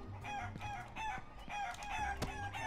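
Hens in a video game clucking and squawking in a rapid, overlapping series of close, loud calls, with a few sharper cries among them.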